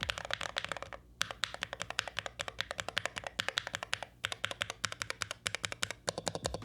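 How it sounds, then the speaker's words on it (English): Typing on a Lemokey L0 HE one-handed keyboard with Lemokey Lime linear switches, giving rapid, steady, close-up keystrokes with a thocky tone and only brief pauses. "the Lemokey Lime switches are linear and have a nice kind of thocky sound to them"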